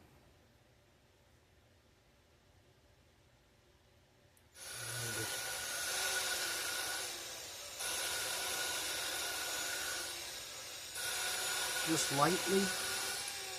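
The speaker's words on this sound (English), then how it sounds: "I'm just going to chuck the valve into the drill, not going to crank it down." A power drill spins an engine valve, lapping it into a hot rod engine head, whirring steadily in bursts after a quiet start, with a gritty rubbing grind; a voice speaks briefly near the end.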